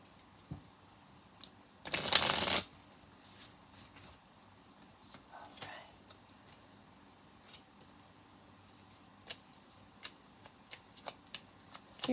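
Oracle cards get one quick, loud riffle shuffle lasting under a second, followed by faint handling clicks and taps of the cards at close range.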